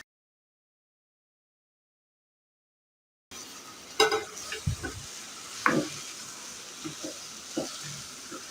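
Sliced ridge gourd rounds sizzle and fry with spices in a pan after a silent start, with steady hissing and a few stirring scrapes and clinks, close and moderately loud.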